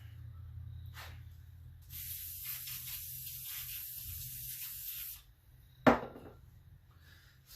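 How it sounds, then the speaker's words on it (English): Brake cleaner sprayed onto an engine block in one long steady hiss of about three seconds, close and loud, with a sharp knock afterward. "I'm going to completely clean it off with brake clean"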